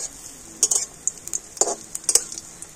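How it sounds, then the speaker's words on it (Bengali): Pitha made with palm fruit fry in a little oil while a spatula spreads oil over them, giving soft sizzling under several sharp scraping and clinking strokes of the spatula against the pan. "এই হালকা করে তেল আমি এইভাবে খুন্তি করে উপরে দিয়ে দেব"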